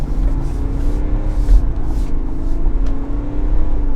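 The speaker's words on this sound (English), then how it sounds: "What we want to do now is turn left and accelerate and see if our rear steps out or not." A Chevrolet Tahoe Premier SUV accelerates through a left turn at night with traction control off, its engine a steady low rumble with rising revs and faint tire and road noise, heard from inside the cabin.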